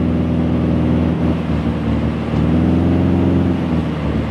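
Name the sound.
poor-running Bonanza V-Tail piston engine in Accu-Sim flight simulator video game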